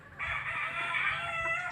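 A single rooster at a chicken coop crows loudly and close by, one long drawn-out call filling nearly the whole clip, with no talking.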